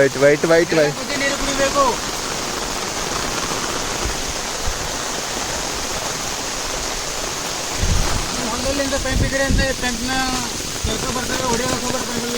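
Steady, heavy rain roars throughout as a dense wash of noise, with brief indistinct voices near the start and again toward the end.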